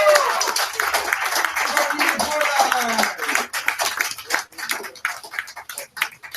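A bar-lounge crowd at a meeting breaks into clapping and applause for two women, the close dense patter tapering into scattered claps with voices mixed in.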